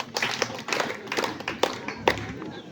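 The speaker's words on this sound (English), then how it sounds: "Can we clap for that?" Sparse, scattered hand claps from an audience at a high school debate, a handful of separate sharp claps that never build into full applause, with faint murmuring voices in the background.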